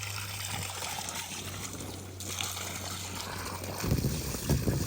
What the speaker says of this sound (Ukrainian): Йому подобається, мабуть, як вона булькає.